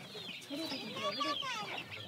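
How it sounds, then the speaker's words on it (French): Chickens cluck and squawk in agitated bursts as they are flushed from a hiding place and caught at a family's village poultry yard in India, fairly faint, with a voice talking over them. "Elle a juste la bonne taille pour déloger la volaille de sa cachette."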